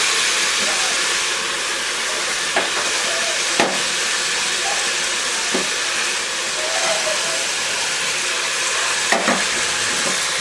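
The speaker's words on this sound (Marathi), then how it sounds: "वाटाणा टाकला बघा हे सगळं भाजायला ना थोडं आपण मीठ टाकूया पटकन भाजतात भाज्या" Chopped vegetables and peas fry in a hot pan with a pinch of salt. A steady, close sizzle hisses throughout, broken by a few light clinks of stirring.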